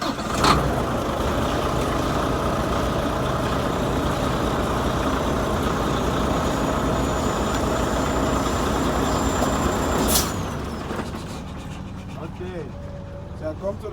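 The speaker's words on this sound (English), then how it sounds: "I'll start the truck again," Volvo truck diesel engine running at a steady idle, a continuous loud rumble throughout with a brief sharp burst near the start and a click near the end as it drops quieter.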